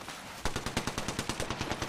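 Rapid automatic gunfire in Apex Legends rattles off in a steady burst of about a dozen evenly spaced shots, loud and close.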